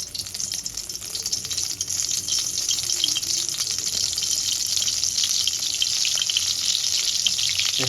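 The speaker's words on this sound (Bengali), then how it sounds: "এবার এগুলোকে আমি সাদা তেলের মধ্যে আস্তে আস্তে করে লাল লাল করে ভেজে নেব।" Chhana fritters fry slowly in white oil on a low flame, a steady loud bed of hissing and bubbling that carries on unbroken from start to end.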